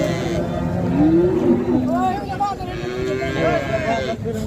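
Young heifers low and moo at the Sangola cattle market, several drawn-out calls rising and falling over a crowded, noisy background with people talking nearby.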